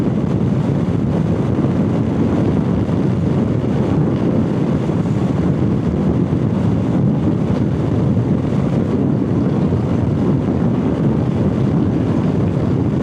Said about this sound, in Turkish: Rüzgar da bayağı bir etkili duyduğunuz üzere.